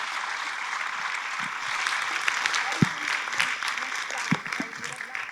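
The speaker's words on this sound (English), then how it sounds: "let's have a round of applause for these 10 brilliant speakers" Audience in a university conference auditorium applauding roundtable speakers, a steady wash of many hands clapping at moderate distance throughout, with a voice speaking over it and a few louder thumps.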